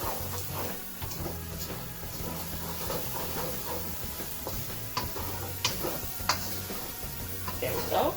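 Onions and garlic fry in a pan while being stirred, giving a soft steady sizzle broken by scraping clicks and ticks of a utensil against the pan, with a low rhythmic hum underneath.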